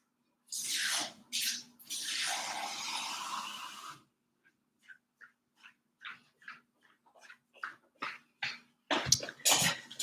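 Water gushes from a tap for a drink in a loud, close burst lasting a few seconds, then follows with a run of short, separate splashes and trickles.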